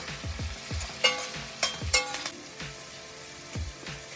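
Four large onions, curry leaves and green chillies are sautéed and stirred in a pan. A steady sizzle sits under repeated scraping strokes and a few bright metallic clinks of the spatula against the pan.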